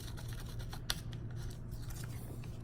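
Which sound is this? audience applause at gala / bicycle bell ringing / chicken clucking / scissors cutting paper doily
scissors cutting paper doily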